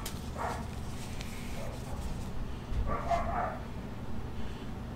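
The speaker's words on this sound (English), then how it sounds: "You can hear my dogs upstairs barking." Dogs barking upstairs in a house, a few muffled, distant yaps and barks heard faintly through the floor over a low background hum.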